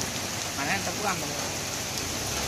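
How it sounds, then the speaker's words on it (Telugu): Steady rain with gusting wind during a heavy downpour in the Sullurpeta area of Nellore district, a broad continuous wash throughout, with a person talking briefly over it. "గాలి వాన కదా"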